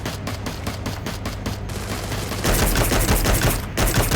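Rapid bursts of shooter video game gunfire crackle continuously, a steady rattle of shots that grows louder and denser halfway through, with no talking.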